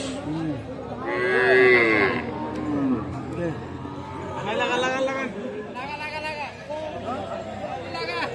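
Cattle, small bulls and heifer calves, moo repeatedly at a busy livestock market, with several long drawn-out calls close by over a background of crowd chatter.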